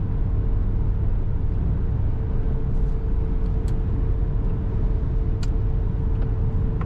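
A 1985 Cadillac Eldorado cruising smoothly on the road, heard from inside as a steady low engine and road rumble with a faint hum and a few light clicks, no talking.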